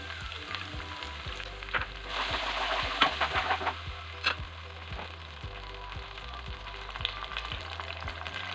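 Tomato puree sizzles in a pan with chicken for a dahi chicken curry, a loud crackling hiss that swells when it lands and then settles, with occasional clinks and a low regular ticking underneath and no talk.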